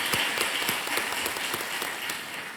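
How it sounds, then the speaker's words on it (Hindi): A studio audience on a televised quiz show claps in warm, even applause, with a few louder individual claps standing out from the crowd. "तालियों के साथ हम आपका अभिनंदन करते हैं"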